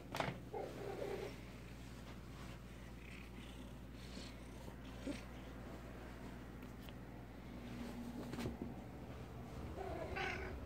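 Quiet, intermittent cat sounds with faint meows and low purring over a steady background hum, with occasional small clicks and shuffles.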